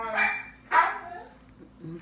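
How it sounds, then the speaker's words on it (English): Dogs, including a husky, give two or three loud, close barks and yips with short gaps between them indoors. "My daughter must be coming in when they start barking."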